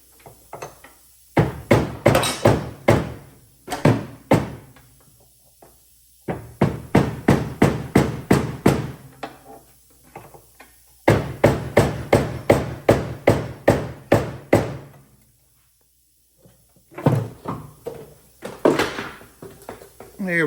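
Heavy hammer blows pound a seized part on a Porsche 911, struck in rapid bursts of several hits each with short pauses between, loud and close in a workshop.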